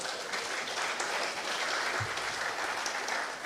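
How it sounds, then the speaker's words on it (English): Sustained audience applause fills a conference hall at the 8th International Conference on Tropical Studies, a steady dense wash of many hands clapping at even loudness throughout. "Thank you for your applause."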